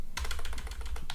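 Quick burst of rapid key clicks as a password is typed on a computer keyboard, close and distinct with an irregular tapping rhythm.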